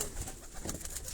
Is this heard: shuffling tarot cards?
no